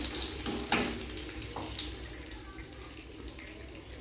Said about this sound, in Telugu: జీలకర్ర, ఒక 2 వట్టిమిరపకాయలు, వెల్లుల్లి వేసి వేపుకోవాలి.